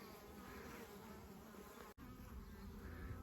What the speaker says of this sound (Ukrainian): Чудово спостерігати за бджолами